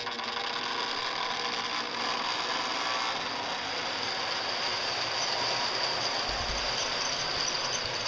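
Lionel Canadian National Alco model train locomotives, a 227 and 228 push-pull pair, starting up with a steady electric whir and rattling ratchet-like mechanical hum that holds evenly, close and moderately loud, with no talking.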